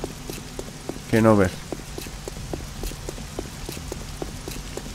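Rain patters steadily in 7 Days to Die, with close, regular footstep-like ticks under the downpour, and someone speaks briefly in Spanish over it.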